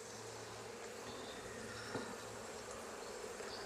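Honey bees buzz on a comb just lifted from a hive, a steady, dense hum with faint wingbeat flickers that stays low-level and continuous throughout.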